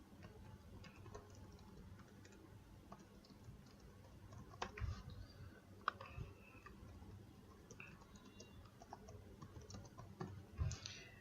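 Soft, irregular keyboard tapping clicks along quietly while composing an email, with occasional sharper clicks among the keystrokes and no talking.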